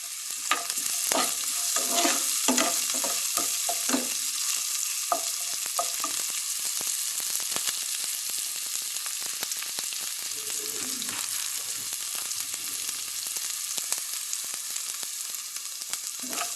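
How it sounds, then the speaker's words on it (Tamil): Onions frying with salt in a pan while being stirred, for a cabbage and coconut stir-fry; steady close sizzling runs throughout, with scraping stirring strokes that are busier in the first few seconds, and no talking. "கொஞ்சம் வெங்காயம் வதங்கிறதுக்கு கொஞ்சம் சால்ட்டு போடுறேன்"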